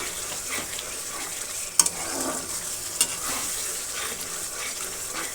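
Onion, garlic and spiced tomato masala with potatoes sizzles and fries steadily in a pan while being stirred, with a couple of sharp scrapes of the spoon against the pan, close and alone with no voice.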